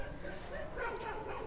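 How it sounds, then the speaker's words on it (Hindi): Dogs barking and yipping along an empty early-morning street, a steady dull chorus that sits mid-distance over faint ambient hum with no single bark standing out sharply. "सिवाय कुत्तों के और किसी की आवाज़ भी नहीं आ रही, कुत्ते अपना काम कर रहे हैं।"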